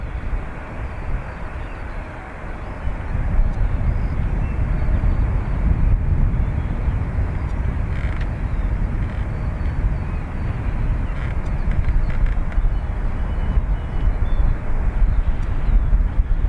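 A jet airliner takes off from runway 28 right at Dublin Airport, a steady broad roar that swells after the first few seconds and holds at a constant level, heard from a distance with some wind buffeting the microphone.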